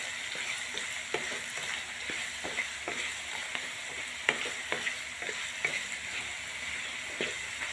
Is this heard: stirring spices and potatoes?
yes